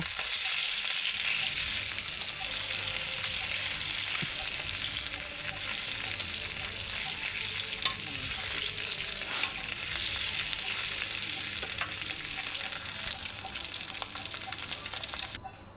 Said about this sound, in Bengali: বাকি আর মাছ দুটোকে সুন্দর করে ভেজে নেব।